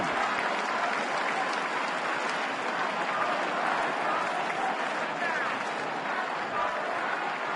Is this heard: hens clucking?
no